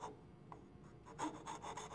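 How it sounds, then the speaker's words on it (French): A medium-coarse file rounds the teeth of a wooden gear held in a woodworking vise, making quiet, rasping strokes that come in a quick, uneven series and grow slightly stronger toward the end. "En utilisant une lime moyennement rugueuse, arrondir le bout de chaque dent."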